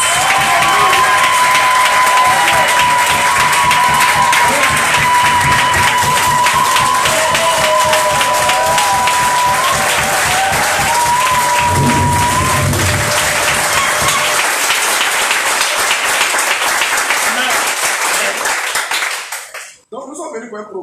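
Loud, sustained applause and cheering from a church congregation, dense clapping with shouting voices and a held tone over it, running steadily for about twenty seconds before cutting off abruptly.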